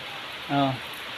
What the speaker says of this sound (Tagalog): Umulan na po at nakakatuwa.